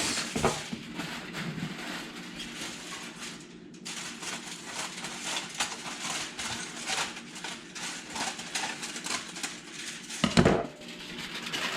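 Tin foil being torn, crinkled and handled over a pan of pork ribs, a busy run of crisp rustles, scrapes and light metallic taps close by, with a sharper clatter near the end and no voices.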